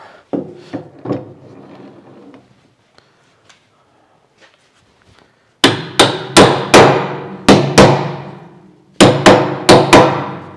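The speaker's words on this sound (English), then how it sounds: "hand me that hammer back there" Hammer blows on wood and metal while assembling tools: a few scattered knocks, then two sharp loud bursts of three to four ringing strikes each, close to the microphone.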